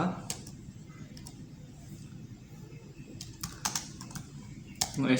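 Router configuration commands are typed on a computer keyboard in short bursts of crisp key clicks with pauses between them, close and moderately loud against a low background hum.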